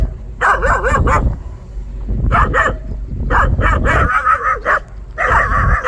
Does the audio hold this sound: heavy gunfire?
no